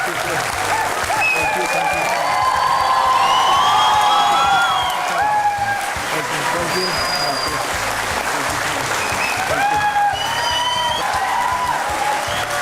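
Studio audience applauding to welcome actor Sonu Sood onto a courtroom-style TV show set, steady dense clapping with cheers and whoops running throughout, loud and sustained.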